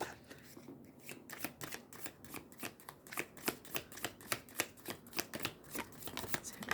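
Large tarot cards shuffled by hand in a quiet room, a run of crisp riffling flutters and soft taps repeating in a quick, steady rhythm, close and fairly soft.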